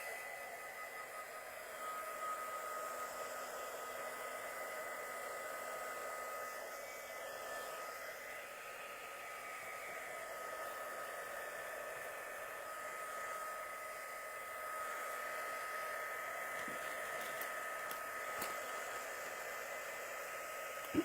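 A hair dryer blows steadily on the edges of a decoupaged farm print on a paint stick, a continuous close whooshing hum lasting the whole time with no talking.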